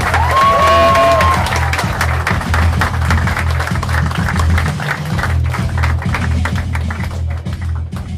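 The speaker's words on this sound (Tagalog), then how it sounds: "Ang hina daw ng palakpak nyo, isa pa palakpak!" A large crowd applauds and cheers at a business presentation, the clapping loud and sustained over a steady low music bed, with a brief whistle-like tone early on.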